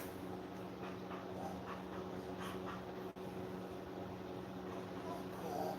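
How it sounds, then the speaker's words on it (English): Redbone coonhound dogs whimper and pant softly up close, with faint repeated whines over a steady hum in the background. "They are beautiful dogs and loud."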